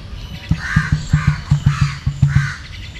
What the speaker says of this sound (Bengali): আর এখানে আছে অনেক ইমু পাখি। ওদের সাউন্ডটা আচ্ছা রকমের একটা সাউন্ড করে ওরা।